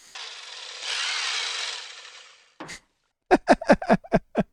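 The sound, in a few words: electric meat trimmer running in Rocky Horror film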